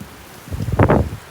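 A brief gust of wind in a mountain storm with 70-mile-an-hour gusts up a valley buffets the microphone, swelling into two low, rumbling bursts of roaring noise before fading after about a second.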